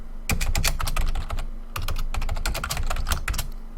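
Rapid typing on a computer keyboard, with bursts of close, crisp key clicks separated by short pauses, alone with no voices.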